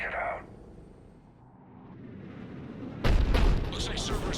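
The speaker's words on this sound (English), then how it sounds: "Looks like Cerberus got that cannon operational, Commander." Heavy cannon artillery fires in the Mass Effect game, a deep booming blast that strikes suddenly after a stretch of low rumbling ambience, loud and close, followed by ringing debris noise.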